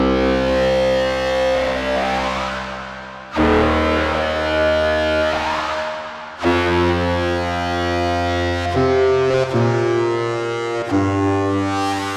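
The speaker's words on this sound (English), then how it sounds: "the Analog 4 Mark II is a synthesizer that can do mono sounds like" An Elektron Analog Four Mk2 analog synthesizer plays a loud, distorted mono patch in sustained, buzzy low notes with rich harmonics, changing pitch every few seconds across four long held phrases, with no voices.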